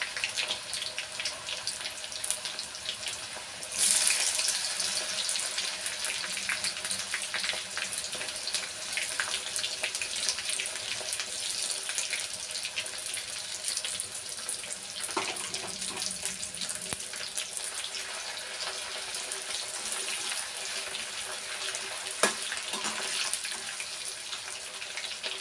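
Curry leaves fry in hot oil, giving a continuous, even sizzle that holds steady for the whole stretch, with a few faint clinks and no talking.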